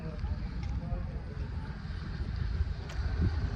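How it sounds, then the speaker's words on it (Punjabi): Strong outdoor wind buffets the microphone in a continuous low, rumbling roar that stays loud and close for the whole stretch. "ਹਵਾ ਚੱਲੀ ਖੜੀ ਇੱਕ ਤਾਂ ਬੜੀ ਜ਼ਿਆਦਾ"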